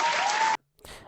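A short burst of audience applause, about half a second long, is cut off abruptly and followed by a brief quiet gap and faint room noise.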